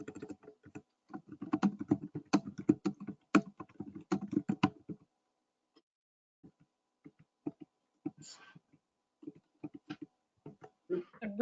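Close clicking keystrokes on a computer keyboard come in a busy burst of typing, then thin out into sparse, irregular taps after a short pause, during an online committee meeting.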